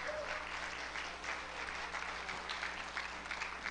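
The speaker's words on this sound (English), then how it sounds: "Give God a hand clap of praise." Church congregation at a Pentecostal Church of God service claps in steady, dense applause filling the room, fairly soft and even throughout with no speech.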